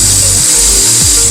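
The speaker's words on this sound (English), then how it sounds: "now I'm gonna continue taking off some 10mm bolts on the supercharger" A power tool works on 10mm bolts of a car supercharger on a ZL1, a loud, close, continuous grinding whir with slight pitch dips, heard alone.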